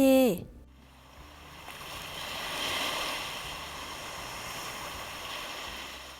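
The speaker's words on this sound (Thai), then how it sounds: "เสียงคลื่นทะเล" Sea waves wash and roll in a continuous broad whooshing surge that swells and eases slightly, steady and moderately loud, following a brief opening tone at the very start.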